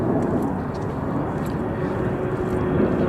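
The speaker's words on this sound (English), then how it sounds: "Airplane up there." An airplane passes overhead at a Los Angeles water-recycling construction site, a steady broad engine roar holding at the same level throughout the short stretch, with no talk over it.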